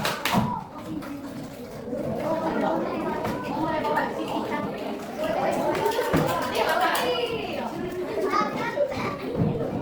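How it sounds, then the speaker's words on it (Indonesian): A classroom of children claps for a group of classmates, a ragged burst of clapping mixed with lively children's chatter and voices. "Tepuk tangan buat kelompok 4."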